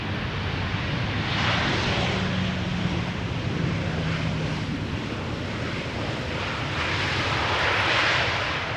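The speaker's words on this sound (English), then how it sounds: "KLM flight 1042 arriving from Birmingham, 737-800." A KLM Boeing 737-800 arriving at Schiphol's Polderbaan runway rumbles past in a loud, continuous jet roar with swelling and fading hiss, heavy wind buffeting the microphone.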